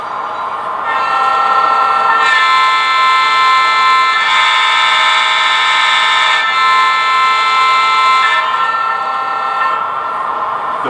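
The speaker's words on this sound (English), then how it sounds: "Go ahead and play the horn for you." Horn of an Alco PA model locomotive in Texas Special livery, a loud sustained multi-tone blast with a couple of shifts in pitch and level, sounding alone for about ten seconds before cutting off.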